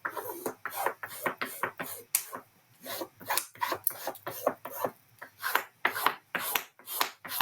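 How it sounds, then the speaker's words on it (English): Rubbing and burnishing paper onto a book spine by hand, a series of close, dry scraping strokes in irregular bursts with short pauses between them. "I just want to burnish that on before I do that"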